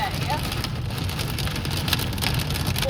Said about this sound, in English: Like, I would argue that this was bigger hail than Amelia's birthday.